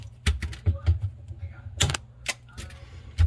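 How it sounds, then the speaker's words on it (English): Sharp snipping clicks from cutters trimming zip tie tails during a Samsung refrigerator evaporator fan repair, about a dozen crisp cuts at irregular intervals over a low steady hum, close up. "And you go ahead and cut your tails off."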